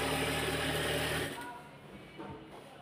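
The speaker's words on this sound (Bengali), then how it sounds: "আমি কিন্তু আস্তে আস্তে সেলাই করতেছি আপনাদেরকে বোঝানোর জন্য" A sewing machine stitches a stool cover at slow speed. A steady, close mechanical whir runs for just over a second, then stops and leaves quieter background sound.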